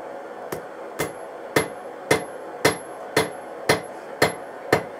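Steel hammer blows forging a puukko knife blade made from an old file, tapering the tip: nine sharp, evenly spaced metallic strikes about every half second, loud and close with a ringing tail, no talking.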